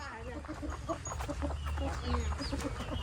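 Ducks quack and cluck in a busy, uneven chatter close by in a rice field, over a low rumbling background, with a voice faintly mixed in.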